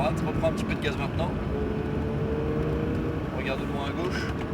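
A Porsche 911 GT3 engine droning steadily on a race circuit while an instructor talks over it, the motor a constant low rumble with little audible rise in pitch.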